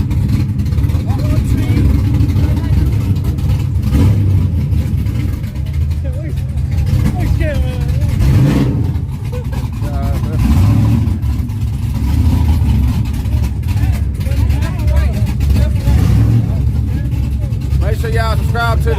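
A front-wheel-drive Honda drag car revs at a drag strip, a loud, sustained engine roar with rising and falling pitch, mixed with crowd noise and people talking nearby throughout.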